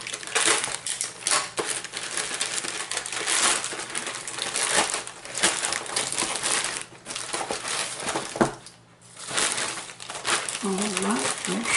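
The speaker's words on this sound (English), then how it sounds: "I'll see if I can just rip it open, and I can." Packaging for a Pelikan M800 fountain pen is ripped and torn open by hand, a steady crinkling, crushing rustle of paper and plastic that fills the whole stretch, close and fairly loud, with a brief voice near the end.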